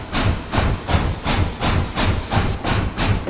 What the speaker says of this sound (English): I really like the chuffing sound on this Big Boy